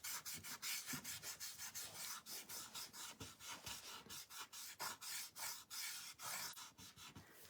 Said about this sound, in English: you want to just burnish that down